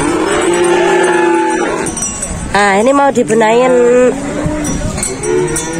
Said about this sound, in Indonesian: Oh ini sapi yang kemarin dibawa kontes teman